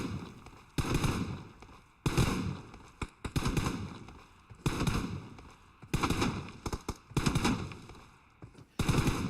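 Bursts of automatic gunfire from the battle royale game PUBG during a tournament match, loud rapid volleys repeating every second or two with brief gaps between them.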